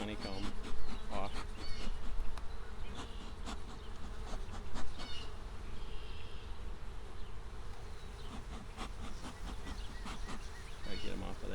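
Honeybees buzz steadily around an opened hive while honeycomb is cleaned off the frames, a dense close insect drone with scattered handling clicks and a voice speaking at moments over it.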